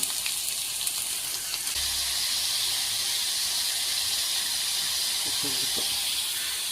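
Sliced onions and tomato fry in a pan for egg curry, giving a continuous, even sizzling hiss up close with faint low rumbling underneath.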